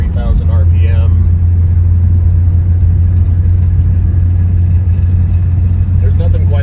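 A 1976 Porsche 912E with a 90 horsepower engine drives along, its engine a loud steady low rumble throughout, while someone talks over it.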